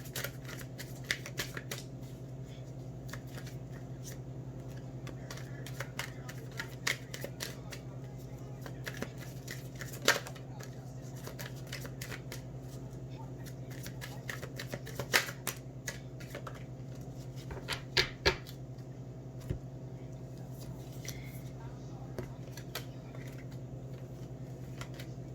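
Tarot card deck being shuffled by hand, soft irregular riffles and taps close by, quiet over a steady low hum.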